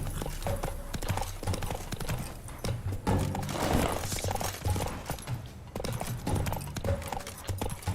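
Horse galloping in The Witcher 3: Wild Hunt, steady rhythmic hoofbeats running without a break under dense game sound, loud and close, with no talking.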